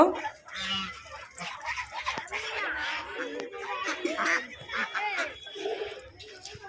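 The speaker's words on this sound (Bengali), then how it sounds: "দেখুন হাঁসগুলো খুবই সুন্দর এগুলো হচ্ছে রাজহাঁস" Domestic geese honk and chatter continuously close by beside a road in the Sundarbans, a busy flock calling over one another with faint background noise.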